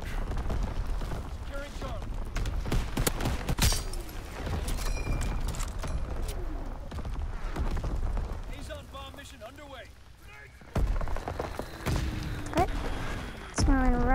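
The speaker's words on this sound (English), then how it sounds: "apparently the artillery is hitting here too" Distant artillery shells thud and boom across a Call of Duty WW2 battlefield, scattered heavy impacts among gunfire and clatter, while a player talks over much of it.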